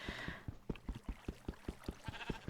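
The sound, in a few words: sheep bleating in the video game Minecraft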